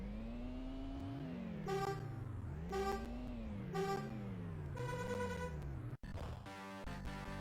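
Lotus Esprit engine in an Amiga racing game, repeating synthetic revs that climb and fall in pitch in a steady cycle as gears shift, with bright chiptune-like tones overlaid and a brief cutout near the end.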